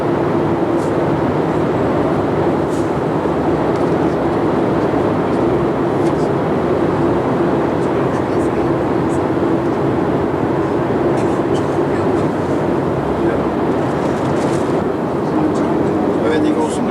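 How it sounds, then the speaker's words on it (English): A tour coach driving through Norway, heard from inside as a steady low engine and road drone that holds without a break. "today that we have Ole driving us in the coach"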